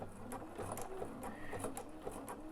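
A Bernina bulky overlock serger stitches over piping cord with a fast, steady mechanical whirr and rapid rhythmic ticking of the needle, close up and fairly quiet, with no talk.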